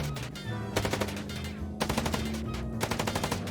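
Rapid automatic gunfire in the Chicken Police video game, several loud, close bursts of rattling shots separated by brief pauses, with a steady musical or ambient bed underneath.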